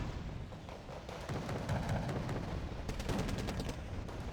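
Mortar and gunfire in the video game Wargame: Red Dragon, a dense, continuous rumble of distant explosions and crackling shots that holds steady throughout, with no speech over it.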